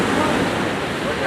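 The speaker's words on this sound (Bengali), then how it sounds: "এই দিকটার ঢেউটা কিন্তু আরো বেশি সুন্দর লাগছে, মানে ঢেউটাকে পরিষ্কারভাবে বোঝা যাচ্ছে।" Ocean waves break on the beach at Old Digha, a close, steady wash of surf with a windy hiss, heard alone for a moment.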